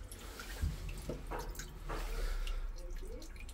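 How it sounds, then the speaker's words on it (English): Water draining out of a home boiler's pressure vessel as system pressure drops, heard as a faint, close trickle with soft drips and a low steady rush, with no talk. "That's the water leaving the vessel."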